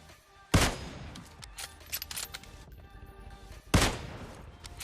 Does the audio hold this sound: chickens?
no